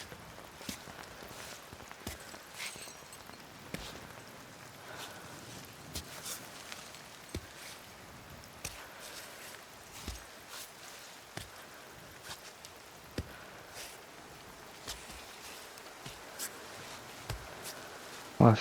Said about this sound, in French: Cette pluie du démon.